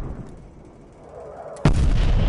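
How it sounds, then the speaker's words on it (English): Artillery fire in the Call of Duty Cold War video game hits as a sudden loud blast with a sustained rumbling roar, following a short, quiet lull. "Incoming artillery."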